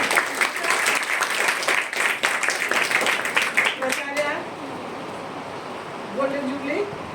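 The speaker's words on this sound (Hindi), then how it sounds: "बच्चों ताली बजाओ।" Children at a school art exhibition clap together in a dense, loud burst of applause for about four seconds, which then breaks off as a voice starts speaking.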